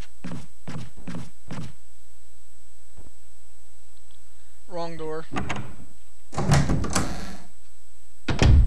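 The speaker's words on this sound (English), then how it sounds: "Door." A door opening in the Resident Evil 1 video game, with clunky thuds and a heavy grinding creak near the end, loud and close; a brief voice is heard earlier.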